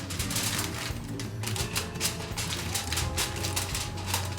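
Aluminum foil is handled and crinkled to cover a steamed leche flan, making a run of close, crisp crackles and rustles that come in quick irregular bursts.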